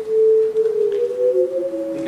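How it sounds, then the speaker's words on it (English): An electronic oscillator tone in a synthesis lecture demonstration has its amplitude modulated by multiplication, producing a sustained steady pitch that splits into two close, beating tones, loud and alone. "This is taking this oscillator and changing its amplitude by multiplying its output by something."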